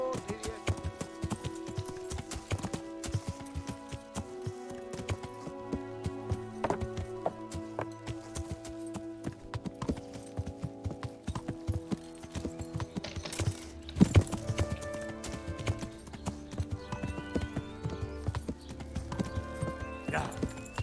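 Horse hooves clip-clopping steadily while riding in a video game, close and rhythmic, mixed with occasional whinnies, clicks and game sounds, no talk.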